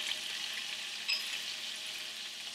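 Asafoetida hits hot ghee and butter with a faint, soft, even sizzle that holds steady throughout, heard alone without voices.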